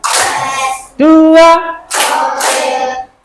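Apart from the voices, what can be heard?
class clapping hands in count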